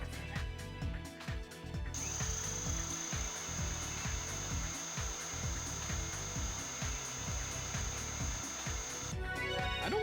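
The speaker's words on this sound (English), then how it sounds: "Drill the holes for it. I'll drill the holes." Surgical drill boring holes into synthetic bone to fix a plate in the Trauma Team video game, a steady high electronic whine lasting several seconds over a busy bed of game music and rhythmic thumps.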